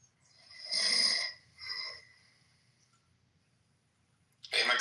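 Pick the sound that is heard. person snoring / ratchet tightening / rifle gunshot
person snoring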